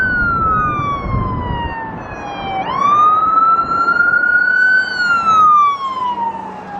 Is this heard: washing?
no